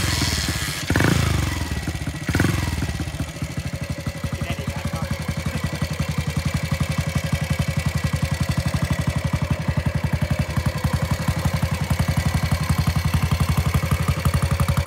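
Engine of a 1964 Ducati Mach 1 250 motorcycle with a modified Triumph electronic ignition ticking over, a steady close single-cylinder pulse at idle after a couple of louder clunks near the start.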